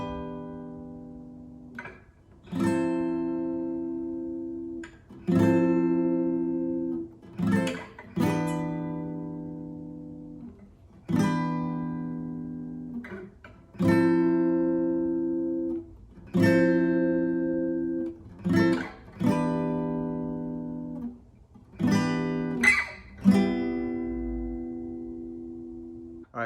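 Guitar strumming barre chords for the intro of a song, clear close chords struck in a slow, regular rhythm, each ringing briefly before the next.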